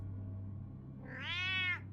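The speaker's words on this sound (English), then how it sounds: "Goddamn cats." A cat in the video game Batman: The Telltale Series gives a single drawn-out, rising meow, fairly clear over a low steady background hum.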